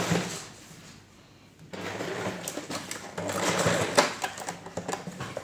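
A sewing machine top stitches a blouse lining about 1/8 inch from the edge, running in steady close mechanical whirring with a brief pause in the first seconds.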